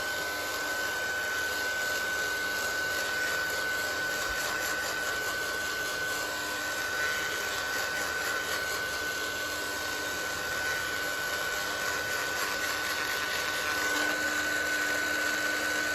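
A heat tool blows continuously to dry paint on a page, a steady whooshing drone with a thin whine that holds evenly for the whole stretch without pause.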